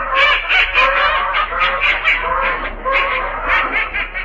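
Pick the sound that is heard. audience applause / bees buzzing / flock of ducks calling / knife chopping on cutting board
flock of ducks calling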